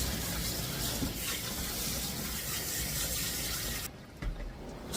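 Running water pours steadily over a wet Maltese dog as shampoo is rinsed from its coat, a close, continuous rush that drops off near the end.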